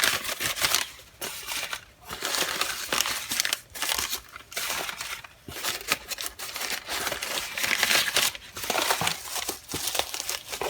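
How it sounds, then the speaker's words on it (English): Packing material crinkles and crumples near and loud as a package is unwrapped from an opened mail box in a workshop, in bursts of rustling and tearing with short pauses, no talk. "the box is now open, so let the unwrapping begin"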